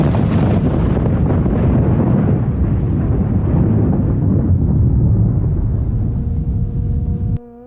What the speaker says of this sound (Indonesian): Suara guntur menyambar.